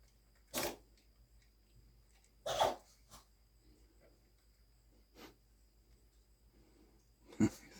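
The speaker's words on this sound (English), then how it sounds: "I think she heard the dog sneeze." A dog sneezes in a quiet room, a few short sharp bursts spaced out over several seconds against a faint low hum.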